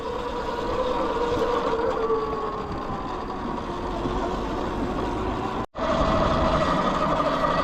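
A Surron electric dirt bike rides steadily with a constant whirring drone and broad road and wind noise, broken by one brief dropout near the end, fairly loud and close, no talking.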